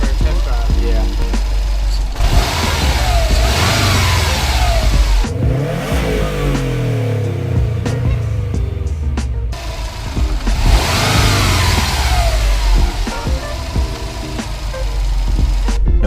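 A Subaru STI fitted with a Cusco oil catch can revs on a test drive, its engine swelling and falling in several loud accelerating pulls over a steady road drone.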